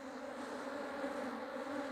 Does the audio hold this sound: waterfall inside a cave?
no